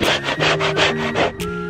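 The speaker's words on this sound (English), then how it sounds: "scraping all of the excess patching material off the top of the wood" A scraper drags across wood to strip off excess patching material during a vinyl floor and trim job, giving about seven loud, rhythmic rasping strokes in quick succession, close up with no talking.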